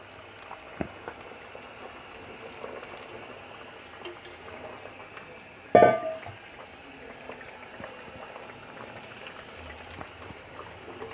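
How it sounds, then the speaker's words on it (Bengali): Fish curry gravy with new potatoes and coriander leaves bubbles in a pot, a faint, steady stream of soft pops with one sharper clatter partway through. "আমার ঝোলটা ফুটে উঠেছে"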